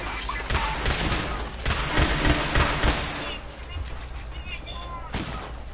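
Gunfire in the video game Fallout 76, dense clusters of loud shots and thuds in the first half easing into lighter background combat noise, with a voice talking over it.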